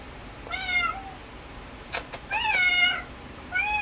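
A house cat meows three times, close and clear, with short pauses between the calls and a few brief clicks in between.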